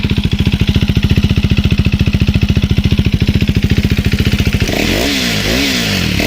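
KTM 390 Duke single-cylinder motorcycle idling after a cold start: a loud, close, steady rapid thumping that changes near the end into a rougher, uneven engine note, with no talking.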